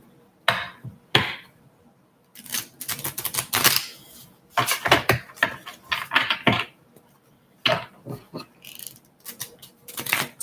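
A deck of cards being shuffled for a reading. Crisp riffling and snapping bursts arrive in irregular clusters with short quiet gaps, close to the mic, and no talking.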